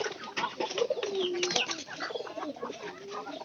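Pigeons kept at home coo nearby in soft repeated rolling calls, with faint rustling and a brief flutter in the background.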